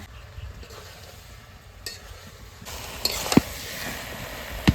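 Village-style duck curry cooking: duck meat coated in raw ground spice paste fries in a wok, a soft steady sizzle that grows louder partway through, broken by a few sharp clacks and scrapes of a stirring spoon, close by and with no talk.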